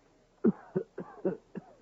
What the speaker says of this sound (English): I have been conscious of your heavy cough.